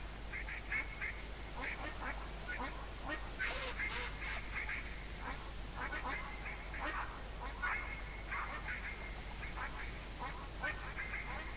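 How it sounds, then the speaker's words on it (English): Black ducks quack repeatedly in theHunter hunting game, a flock of rough, rhythmic calls at moderate distance over a steady outdoor ambience with a faint high insect-like whine. "So that's what black ducks sound like."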